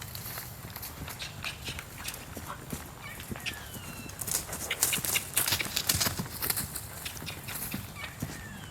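Hooves of a ridden horse clip-clopping on the ground in a quick, irregular walking rhythm, fairly close and moderately loud, with faint rustling and scattered background noise throughout.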